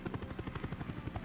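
A helicopter in the city-building game Workers & Resources: Soviet Republic gives a steady, rhythmic rotor chop at moderate loudness, heard alone with no talking.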